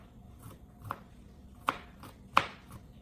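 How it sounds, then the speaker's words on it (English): Garlic chopped with a knife on a cutting board, three or four separate sharp taps spaced unevenly over a quiet background, close but fairly soft. "chop the garlic according to your preference"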